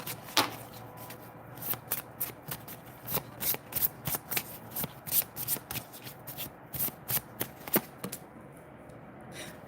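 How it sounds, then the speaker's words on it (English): Tarot cards riffled and shuffled in quick bursts, a dozen or so crisp flutters in close succession, near and clear with no voices. "I'm going to shuffle the cards up a little bit."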